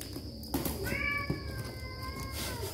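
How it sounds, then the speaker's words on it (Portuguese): Recorded cat meows playing from inside a box, two drawn-out mewing calls with a few small thumps, faint and muffled in a quiet room. "O gatinho tá aqui dentro."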